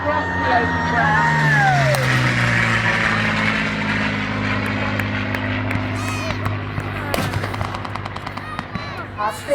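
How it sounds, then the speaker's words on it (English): A Supermarine Spitfire makes a low pass over a WW2 battle re-enactment with tanks. A loud propeller engine drone rises and falls as it goes by, followed by crackling bursts of gunfire, with a commentator's voice over the scene. "Our Spitfire makes one final pass and realises that further attack is futile"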